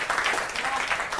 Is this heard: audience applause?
yes